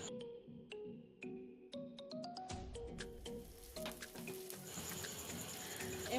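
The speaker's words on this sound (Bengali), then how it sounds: "আবারও ভালো করে নাড়াচাড়া করে ভেজে নেব, যাতে আদা রসুনের গন্ধ না থাকে" Ginger garlic paste fries in a pan with onions, giving a quiet, steady sizzle broken by sharp clicks and taps of a spatula stirring, the frying hiss growing fuller and brighter toward the end.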